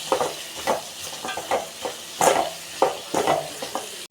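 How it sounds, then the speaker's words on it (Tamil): A spoon scrapes and stirs bitter gourd, onion and tomato in a frying pan, sounding as a series of about seven rhythmic, fairly close strokes over a soft sizzle. "இதை நல்லா கலந்து விடுங்க"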